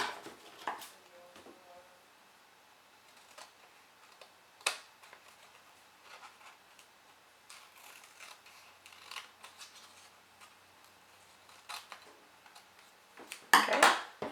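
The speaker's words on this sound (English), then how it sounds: "I can easily flip it over here and just cut along these edges" Scissors snip through paper scraps along the edges of a small handmade journal: a few sharp, quiet cuts spaced far apart, ending in a louder, quicker cluster of snips close by.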